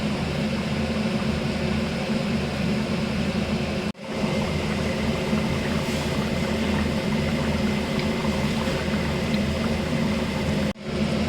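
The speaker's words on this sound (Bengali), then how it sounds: "এখানে তো ফুটছে।" Water boiling in a pot of rice on a kitchen stove, a loud, steady bubbling roar that runs continuously apart from two brief breaks, no talk.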